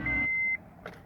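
Steady high-pitched buzz from a 2002-2006 Honda CR-V with a faulty ignition switch as the key is turned to start, holding about half a second over a low rumble, then a couple of brief fainter chirps.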